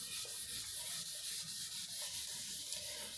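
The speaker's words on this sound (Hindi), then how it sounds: "ये क्वाड्रिलेटरल का नाम भी मिटा देता हूँ" Steady dry rubbing of an eraser across a classroom board during a Class 8 mathematics lesson, continuous scratchy swishes with slight rhythmic strokes, fairly close and alone without talk.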